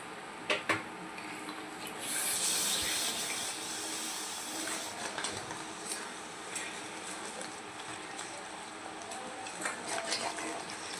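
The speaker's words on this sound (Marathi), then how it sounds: "मसाला आता खाली लागू नये म्हणून यामध्ये मी थोडंसं पाणी ॲड करते" Masala sizzles in a pan just after a little water is added, a steady hissing bubble with occasional clinks and stirring knocks, close and moderately quiet.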